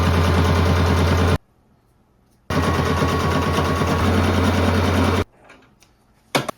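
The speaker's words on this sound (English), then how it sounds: "we're just going to do a top stitch along these 2 sides here" Home sewing machine top-stitching two edges of a fabric pet bandana, running in two loud, steady bursts of rapid stitching separated by a short pause, then stopping.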